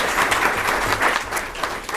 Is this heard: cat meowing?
no